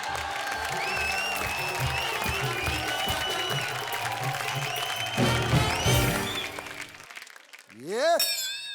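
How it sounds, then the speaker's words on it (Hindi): A studio audience at a comedy show bursts into loud, sustained applause with cheering voices for several seconds. It fades out, and a rising whoosh effect follows at the end. "तो दोस्तों, जोरदार तालियों के साथ स्वागत कीजिए प्रतिज्ञा की कोमलिया यानी पार्वती साइगल का।"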